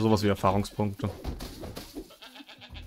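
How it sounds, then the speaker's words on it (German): Small cartoon sheep bleat in the video game Bang-On Balls: Chronicles, several quick wavering bleats in a row, heard under and between someone talking. "die kleinen Schafe"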